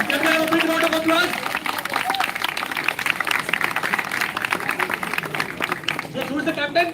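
A crowd at a Krishna Janmashtami pot-breaking event claps in a round of applause, a steady patter of many hands, mixed with cheering and voices talking over it.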